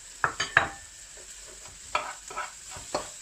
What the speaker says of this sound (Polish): Między czasu mieszam.